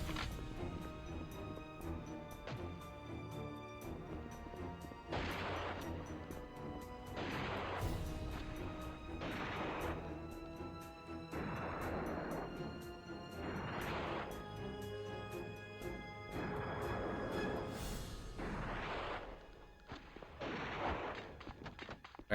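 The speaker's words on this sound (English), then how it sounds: "Wow, these sniper duels suck." Sniper rifle shots in the shooter game Dead to Rights, repeated heavy booming reports spaced several seconds apart over a constant dense game backdrop.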